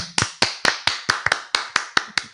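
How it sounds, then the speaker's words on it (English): Sharp, evenly spaced hand claps, about ten in quick succession, close and loud, like a single person slowly clapping a round of applause in a studio setting. "Round of applause."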